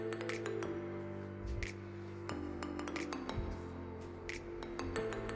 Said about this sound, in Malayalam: നന്നായിട്ട് ഇതൊന്ന് ഇളക്കി കൊടുക്കാം.